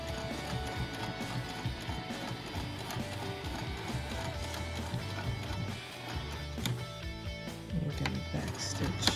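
Sewing machine back stitching through a vinyl pouch, a steady, dense mechanical whir and needle chatter running continuously, with a brief slowdown near the end as the stitch reverses.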